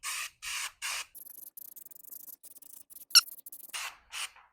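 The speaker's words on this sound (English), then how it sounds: "This is trunk splatter paint. And we're just gonna" Trunk splatter paint sprays onto the dash of a 1990 Bronco II in three short hissing bursts, then soft rattling taps, a sharp click and two more spray bursts, all close and fairly quiet.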